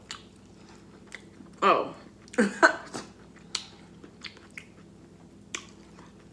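A homemade crunchy taco being bitten and chewed, with a few short crunching bites close to the mic and a brief spoken exclamation.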